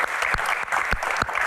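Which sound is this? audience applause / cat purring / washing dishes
audience applause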